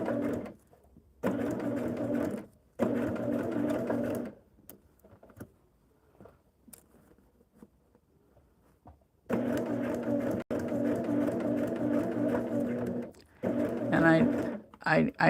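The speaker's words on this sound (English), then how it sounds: "now we're going to be stitching a curve seam" A sewing machine stitches a curved fabric seam in short, slow bursts of steady motor whirring, separated by quiet pauses, with a long gap in the middle before it runs again.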